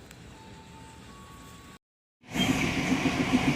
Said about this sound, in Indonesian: kereta api Mata Remaja mendekati stasiun Jatinegara